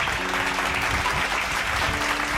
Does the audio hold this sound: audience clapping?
yes